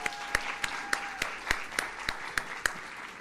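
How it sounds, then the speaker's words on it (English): Sparse clapping for panelists at a community nonprofit event; distinct claps land in a fairly regular beat over a soft room background, sounding like a thin audience rather than a roaring crowd. "can we just get a round of applause for the panelists up here today"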